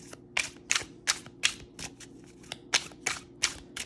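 Tarot deck with smooth, easy-gliding cards shuffled by hand, a run of about ten crisp, rhythmic riffling bursts at close range, fairly quiet, with no talking.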